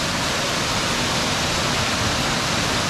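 A clear mountain stream in Val Vertova near Bergamo rushes over rocks, a dense, steady, loud broadband wash of water with no voices.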